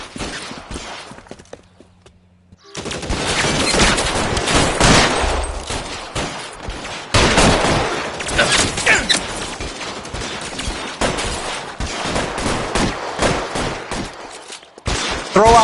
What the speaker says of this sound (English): bullets start flying, and they snatch up the guns